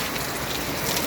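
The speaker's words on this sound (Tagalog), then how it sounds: "Lakas ng ulan." Heavy rain pours steadily during a typhoon in Las Piñas, a dense, even hiss of downpour filling the short stretch without a break.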